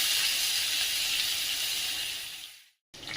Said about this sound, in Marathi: कढीपत्ता, बारीक चिरलेला थोडासा कांदा चांगला परतून घेऊया